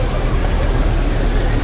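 Night traffic jam on a busy street in Saudi Arabia, with a dense, loud roadway roar of buses and trucks idling close by and a faint hiss of air brakes throughout.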